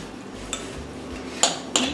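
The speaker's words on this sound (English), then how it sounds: "Mix the whole thing." Cream, mozzarella and Gruyere are stirred together in a bowl with a utensil, producing quiet soft mixing sounds and a few sharp clinks against the bowl.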